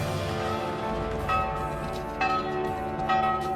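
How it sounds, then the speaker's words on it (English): A piercing bell at a well rings in repeated sharp strikes, each leaving a long metallic ring, sounding three times over a steady low background rumble in the Rings of Power series. "The piercing bell sound would soon attract the pursuers."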